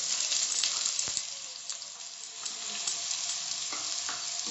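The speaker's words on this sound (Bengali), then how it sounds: "ভালো করে সটে করতে হবে। 2 মিনিট সটে করব মিডিয়াম ফ্লেমে।" Chopped onion sautéing over medium flame in a pan for restaurant-style Konkani chicken curry, a steady dense sizzle with a few soft spoon scrapes, close and continuous, no talking.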